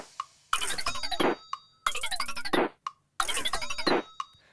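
Three repeated bursts of a bright, busy percussion loop with crisp metallic hits and claps, each about a second long, separated by short gaps and single ticks.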